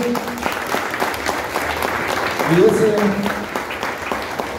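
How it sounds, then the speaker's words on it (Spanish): Crowd applause at the San Jerónimo village festival in Aranza, Michoacán, steady clapping from many people with a voice talking over it and a brief tonal sound rising midway. "Por favor, un fuerte aplauso."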